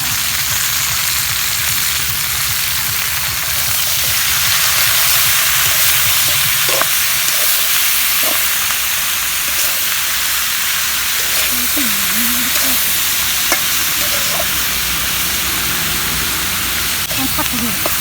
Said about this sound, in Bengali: শাক সেদ্ধটা দিয়ে দিচ্ছি।